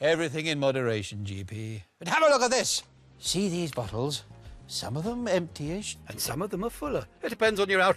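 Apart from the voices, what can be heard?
No everyday noises stand out.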